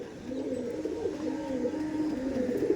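Pigeons cooing softly and continuously at close range, a low throaty burble with no voices over it.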